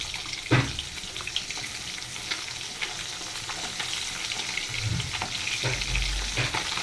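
Fish fries in a pan with a steady, moderate sizzle, punctuated by a few sharper crackles and spatters, and no talking heard.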